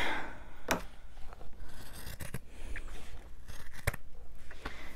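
Scissors snip through a fabric-covered journal cover, a series of crisp cuts and scrapes close by, irregularly spaced over a few seconds.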